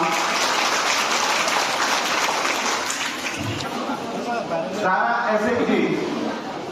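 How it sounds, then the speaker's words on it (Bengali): An audience applauds at a self-help group event at a Hezamara block skill fair, a dense burst of clapping that fades under someone speaking into a microphone and then swells again. "সকলকে বলবো হাততালি দিয়ে"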